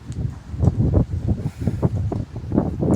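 Gusty cool wind buffeting close to the microphone over farm fields after rain, in low rumbling bursts that rise and fall.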